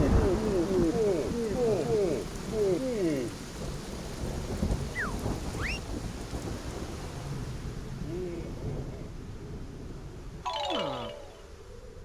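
Rain and thunder from the video game Yooka-Laylee: steady heavy rainfall hisses throughout while low thunder rumbles roll beneath, with a brief sharper burst near the end and faint background voices.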